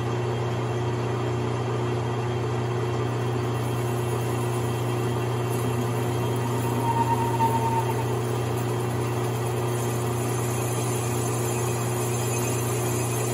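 A machine cuts the squish band on a Husqvarna 550 XP chainsaw cylinder, heard as a steady, even mechanical hum with a constant drone throughout and a faint brief whine midway.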